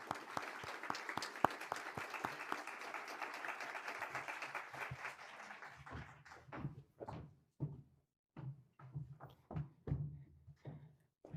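A university lecture audience in Melbourne applauds to welcome a speaker, with steady dense clapping that thins into scattered individual claps and fades out.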